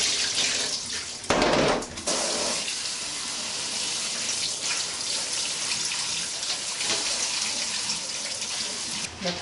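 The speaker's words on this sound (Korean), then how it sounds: "소금물이 담궈놓은 걸 체에 맞춰서 찬물에 한번 살짝 헹궈주세요" Cold tap water runs over salt-soaked potatoes in a sieve, a steady, close splashing stream with a louder surge early on and small clatters of the sieve, continuing without talk.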